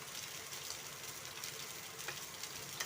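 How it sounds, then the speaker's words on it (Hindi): Sliced onions frying in a pan until light brown for a summer mutton karela dish, a soft, steady sizzle with faint stirring scrapes, quiet and uninterrupted. "ये हमारे प्याज ब्राउन हो रहे हैं, आप देख सकते हैं।"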